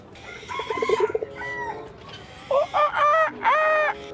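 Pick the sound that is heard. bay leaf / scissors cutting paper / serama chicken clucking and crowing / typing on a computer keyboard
serama chicken clucking and crowing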